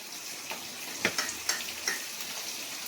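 Spices sizzling in hot oil in a pan for spicy egg curry with turmeric, cumin and red chilli powder, a steady soft frying hiss with a few small pops and crackles, close by.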